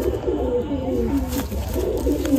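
Gola Madrasi pigeons coo close by in low, throaty rolling calls that repeat in a gentle rhythm, with faint background noise.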